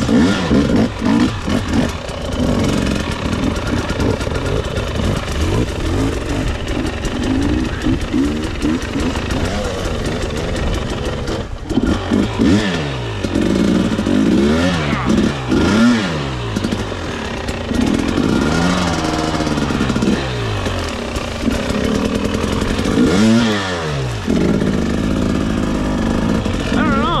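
Dirt bike engines rev and idle loudly on an off-road trail, rising and falling in pitch with repeated throttle blips, while people talk over the running motors.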